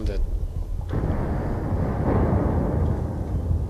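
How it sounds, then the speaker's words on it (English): A grenade blast in Battlefield 3, a sudden broadband boom near the start that swells into a sustained, loud rumble of battlefield noise, with a voice talking over it. "Oh, fuck, grenade."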